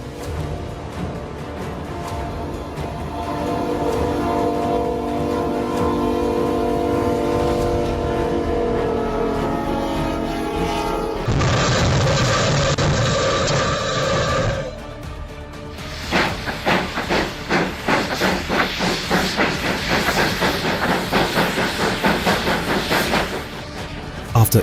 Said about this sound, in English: A 1913, snowplow finally moved under its own power.